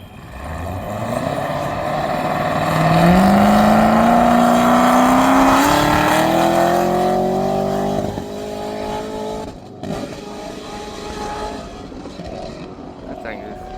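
A turbocharged race car engine revs hard and climbs in pitch, then settles into a rough idle, loud and close, with people talking over it.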